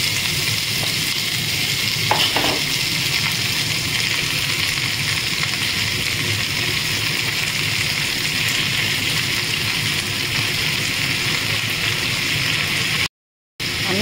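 Chopped bottle-gourd peel and potato hit hot oil spiced with black cumin and dried chilli, giving a loud, steady, continuous sizzle with a brief stirring clatter early on.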